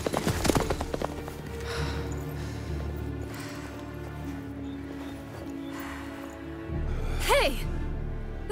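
Horse hooves pounding at a gallop in The Witcher 3, a steady rhythmic drumming kept up under and between spoken voices, with a brief neigh-like cry near the end.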